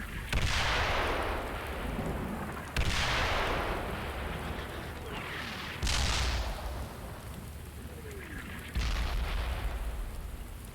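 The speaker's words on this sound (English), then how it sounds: "we will have friendly indirect fire on Hill 41." Friendly indirect artillery fire in a military video game, four heavy booming blasts spaced a few seconds apart, each a loud broad burst trailing into a long rumbling decay.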